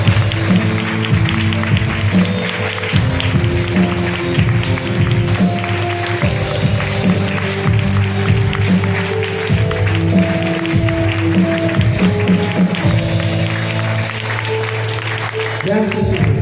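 A church congregation at an anniversary celebration claps steadily along with loud worship music, the rhythmic clapping blending with the band throughout.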